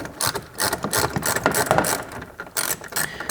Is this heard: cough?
no